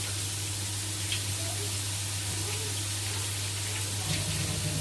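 Boiling water is poured into a cooking pot in a home kitchen, a continuous hissing, splashing stream over a steady low hum, even and moderately loud throughout without speech.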